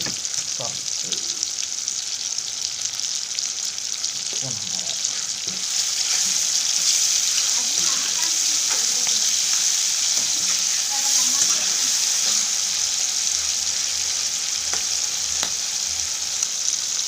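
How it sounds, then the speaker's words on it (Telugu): Onions and green chillies frying in a pan give a steady, close sizzling hiss that grows fuller partway through, with occasional soft stirring scrapes and no talking. "ఉల్లిపాయ మిరపకాయలు ఫ్రై అయిన తర్వాత కొంచెం టమాటా వేసుకుంటాం."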